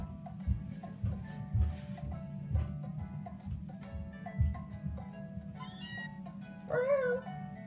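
Cartoonish cat meows from the game Pokémon Sun repeat over a steady game soundtrack with a low droning hum, a higher squealing meow near the end.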